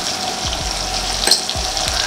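Sugar syrup boils in a pot close by, with a steady bubbling sizzle and soft pops recurring every fraction of a second.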